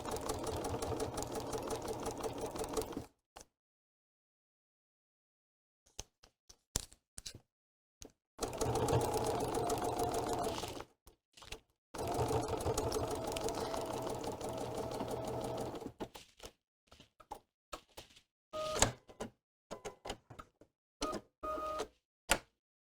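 A sewing machine stitches quilt fabric along a marked line, a steady, loud mechanical whir in long runs broken by stops, followed by scattered clicks and fabric handling.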